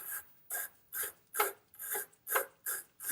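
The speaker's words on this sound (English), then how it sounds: "I'll pull the cover off. I'll clean the terminal." A car battery terminal on a Subaru Outback is scrubbed clean with about eight rhythmic, evenly spaced rasping strokes, close and crisp, with no voices.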